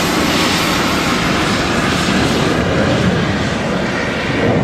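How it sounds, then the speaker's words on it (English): A Hungarian Air Force Gripen fighter jet flies past with a loud, steady, broadband roar that holds at full strength throughout, with no voices. "With a big wave from the Hungarian Air Force, it's this fantastic Gripen."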